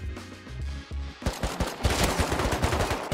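Silenced Tommy gun from the game Rust, starting with muffled thuds and then a quick, even rattle of suppressed automatic shots, fairly close and moderately loud.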